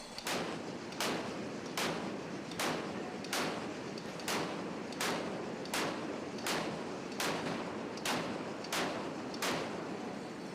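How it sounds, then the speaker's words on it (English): A warship's 4-inch naval cannons fire about thirteen evenly spaced, sharp blasts at a brisk, regular rhythm, each one a booming crack that fades quickly before the next. "The 4-inch cannons also got a workout. The firing of these guns ensured accuracy and mechanical reliability were up to scratch."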